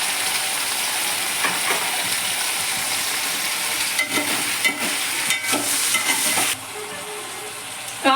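Brinjal, drumstick and potato sauté in a pan with a steady sizzling hiss. Several scraping stir strokes are close by, and near the end the frying softens.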